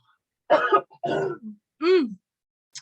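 A person close by coughs and clears their throat three times in quick succession, separated by brief silences.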